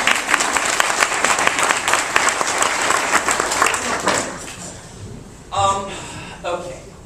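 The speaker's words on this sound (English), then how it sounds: "Can we applaud Kim," Audience at a community board meeting applauds for about four seconds, a dense wash of clapping that fades out before a short burst of speech follows.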